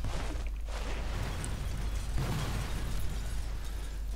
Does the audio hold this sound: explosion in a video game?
yes